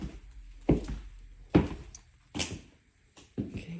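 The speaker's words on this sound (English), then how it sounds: "That's the door." A door in a house opens and shuts, giving four short, fairly close clunks and thuds spaced unevenly over a few seconds, with quiet room noise between them.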